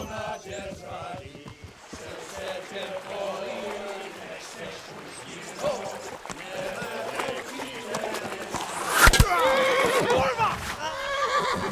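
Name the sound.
horse neighing in video game Kingdom Come Deliverance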